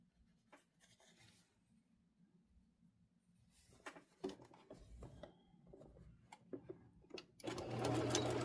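A sewing machine stitching across a hand-stitched seam that had come apart on a vintage quilt, running in short bursts and then louder, steadier runs at close range with faint handling rubs in between and no talk.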